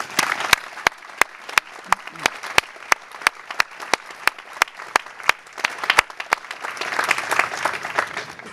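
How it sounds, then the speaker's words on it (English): Audience applause at a 2012 university commencement ceremony: a steady wash of clapping from a large crowd, punctuated by sharp, closely spaced individual claps, swelling a little toward the end. "Would you please join me in a round of applause for Dr. Shade?"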